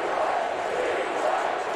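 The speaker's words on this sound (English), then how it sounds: "The crowd is chanting replay." A baseball crowd at a 2010 playoff stadium game between the Rangers and Rays chants "replay" in unison, a dense, loud, continuous roar of many voices filling the whole moment.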